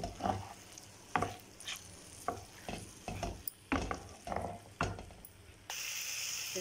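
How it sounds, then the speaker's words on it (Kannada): Okra is stir-fried in a pan for a home-style curry. A spoon scrapes and tosses it in a steady rhythm over a constant sizzle, and the frying settles into an even hiss at the end. "ಎಲ್ಲ ಬೆಂಡೆಕಾಯಿ ಇದರೊಳಗೆ ಜೊತೆಗೆ ಹಾಕಿ ಎಲ್ಲ ಮಿಕ್ಸ್ ಮಾಡ್ತಾ ಇದ್ದೀನಿ"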